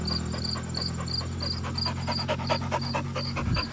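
A Frisbee dog, an athletic working type, pants close to the microphone in a fast, steady rhythm of quick breaths that continues without pause.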